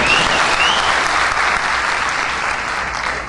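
Sustained applause from an audience at a political speech in Latur, steady and dense throughout, gradually easing slightly toward the end, with no talk over it.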